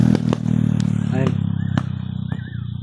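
Motorcycles run with a loud, steady low engine drone and ticking idle pulses throughout, with scattered clatter on top.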